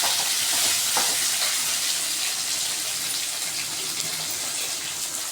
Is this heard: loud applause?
no